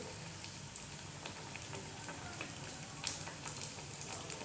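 Sabudana vada shallow-frying on a low flame, a dense, even sizzle with faint crackles and small pops scattered through it, without speech.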